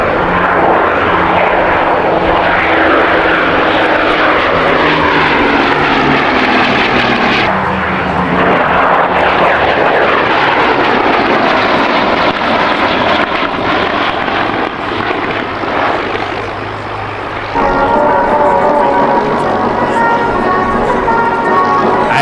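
Aircraft of 68 Squadron, serial Z5722 with code WMZ, flying with a loud, steady engine drone that shifts in pitch as it passes, sustained throughout with no speech.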